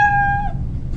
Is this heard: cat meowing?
yes